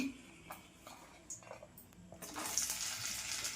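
Cashews and raisins drop into hot ghee. A few faint taps give way to a soft, sustained sizzle that swells midway and holds quietly to the end.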